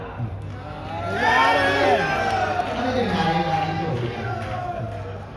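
At a gathering, a crowd cheers and shouts, and the voices swell loudly for a few seconds before easing off.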